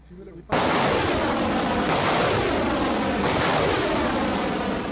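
Artillery fire against terrorist positions, heard as a sudden loud, sustained roaring blast that begins after a short quiet lead-in and stays dense and near for the rest of the clip, with no talk.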